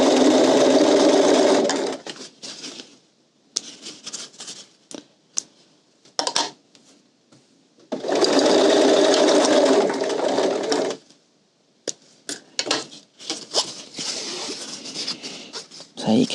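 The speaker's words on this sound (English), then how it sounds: "just matching that up with where my needle is, stitching right along that line." A sewing machine stitches a fabric shopping tote along a marked line, running in long loud bursts between pauses filled with small handling clicks and fabric movement.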